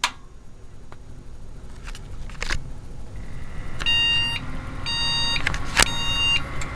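Repeated electronic beeps sound in short bursts from a Windows XP gaming PC over a steady whirring fan hum, with a few clicks and switch noises in between.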